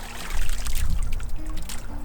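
A felted hat dipped into water outdoors gives a short burst of trickling and pouring splashes, close and fairly loud, fading into a softer dribble.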